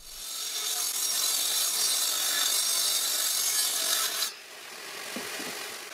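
Handsaw cutting a wooden piece for a leg vise jaw on a workbench, steady rasping strokes loud and close, stopping abruptly near the end with faint handling after.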